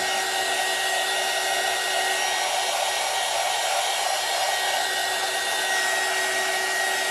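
A heat gun blows hot air in a steady, loud, continuous whoosh with a faint whine over it, unbroken for the whole stretch and with no voices.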